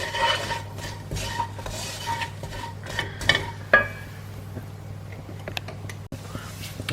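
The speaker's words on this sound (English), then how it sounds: "I'm just going to cook these now for a few minutes until the onions start to soften down." Onions cooking in a pan for a fat-free prawn curry, stirred with bursts of scraping and clattering utensil sounds that thin out toward the end.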